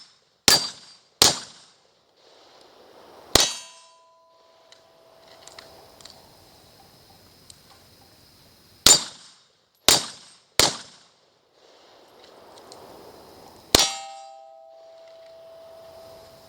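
Gunshots fired at a night shoot as a 20-round magazine is emptied, sharp loud reports in irregular clusters with ringing metallic clangs of steel targets after several shots and quiet gaps between.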